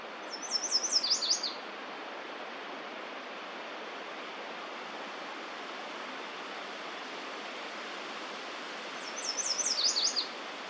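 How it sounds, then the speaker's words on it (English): A yellow warbler sings two short, bright, rapid phrases, one near the start and one near the end, over a steady rush of creek water in a wooded valley. "A yellow warbler sang, but was too quick to catch on film."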